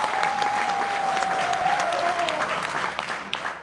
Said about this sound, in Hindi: जोरदार तालियां एक बार रमेश के लिए बजाइएगा